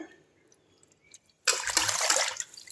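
River fish, jilebi (tilapia), are washed in water. After a quiet start, a loud, close burst of splashing and sloshing water runs through the second half.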